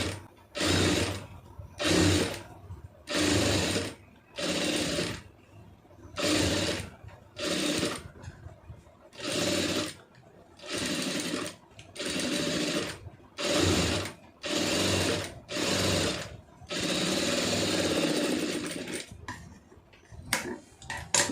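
A sewing machine stitches an Aari blouse in short repeated bursts, about a dozen runs of rapid mechanical clatter separated by brief pauses, close and clear, the last run longer than the rest.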